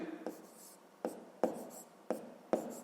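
A pen or pencil writes out a math problem step on paper, making a few distinct taps and short scratchy strokes at an uneven pace, close up and quiet, with no speech.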